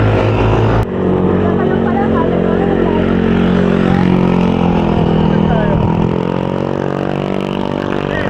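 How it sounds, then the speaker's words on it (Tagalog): Many motorcycles streaming past on a road near a windmill area during a bike ride, a steady loud mix of engine drone and revving close by, with people talking over it. "Ang daming motor."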